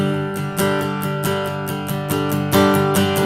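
Guitar strummed in steady sixteenth notes as a worship-song accompaniment for 'The Splendor of the King', with bright, dense chords and accents every half second, played loud and alone with no talk.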